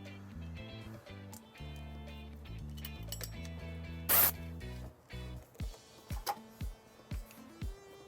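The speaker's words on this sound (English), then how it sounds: "we're just going to continue to put zip ties around our wire" Zip ties ratchet tight around trailer wiring on a 2019 Subaru Impreza Hatchback, giving a run of rapid zipping clicks followed by several short separate pulls, close and fairly quiet.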